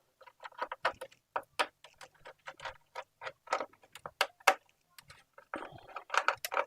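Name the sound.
unscrewing screws on a PS5 console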